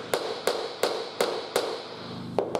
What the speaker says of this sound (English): This is the bigger knocking block because it spreads the load further down the edge of the board.